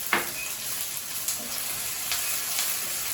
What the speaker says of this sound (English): When your onions start to brown up a little bit and get a bit more relaxed about life, I usually go to carrot next